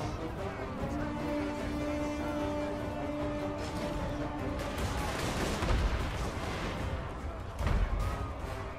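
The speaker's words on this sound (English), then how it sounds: "Hear those cannons!" Cannon fire in the battle game Total War: Warhammer, repeated heavy booms and crackling volleys over a dense battlefield din, with a shouted voice and sustained musical tones underneath.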